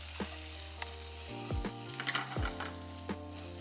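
Celery sautéing in a pan at a cooking demonstration at a health fair, a faint sizzle with a few scraping and tapping utensil sounds over a low steady background hum, quiet and without speech.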